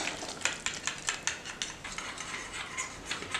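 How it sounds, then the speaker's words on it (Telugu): Spoon stirring paneer butter masala gravy in a pan, a steady run of soft scraping and clinking strokes at low level, close by with no talk. "ఇప్పుడు ఇదంతా ఒకసారి మనం బాగా కలిపేసుకుందాం."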